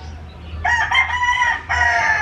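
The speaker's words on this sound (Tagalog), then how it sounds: "Yung mga manok." A rooster crows loudly and close by, a drawn-out call followed by a second crow after a brief pause.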